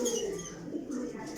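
A pigeon gives a short, soft, low coo up close, quiet and brief with no talking over it.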